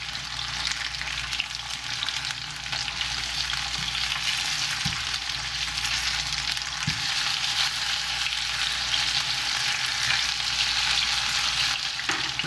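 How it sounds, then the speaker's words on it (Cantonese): A pork chop for Vietnamese broken rice sizzling in a pan after being flipped, a loud, continuous, even crackle with a couple of faint utensil knocks. "咁兩邊咧再煎多一陣，煎半分鐘到就得啦"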